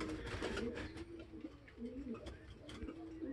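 Pigeons coo in soft, warbling low notes, close by and repeating over a few seconds, while a person talks nearby.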